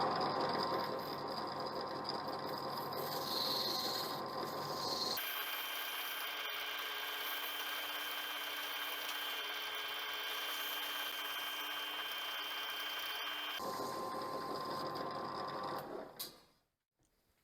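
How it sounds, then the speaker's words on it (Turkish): A drill with fine sandpaper whines steadily for a long stretch, its pitch shifting as it grinds rust off a metal car jack part, then winds down abruptly at the end. "Matkapla da ince bir zımparayla üzerindeki pası olabildiğince çıkartmaya çalıştım."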